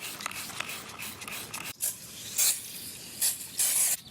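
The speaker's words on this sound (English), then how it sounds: "Now we're gonna spray them a little bit more." Several short hissing sprays of degreaser and wheel cleaner burst from a bottle onto wheels in quick succession, each a breathy whoosh lasting under a second, close and fairly loud against a quiet background.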